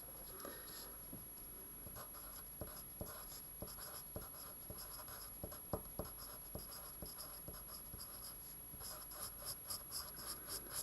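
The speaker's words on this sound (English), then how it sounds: "we write out the sampling formula for the engineers" A pen scratches out a sampling formula for a Year 11 maths example in quiet, faint strokes, with short ticks and scrapes coming in an uneven rhythm close by and no talking.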